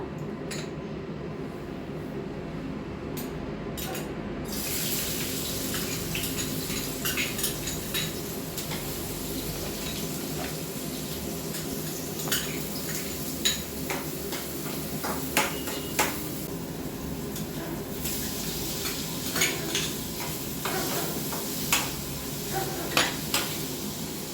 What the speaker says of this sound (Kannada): ಸೊ ಈಗ ಫಸ್ಟ್ ನಾವು ಹೆಚ್ಕೊಂಡಿರೋ ಈರುಳ್ಳಿ, ಕ್ಯಾರೆಟ್ ಹಾಗೆ ಕ್ಯಾಪ್ಸಿಕಮ್ನ ಹಾಕೊಂಡ್ಬಿಡೋಣ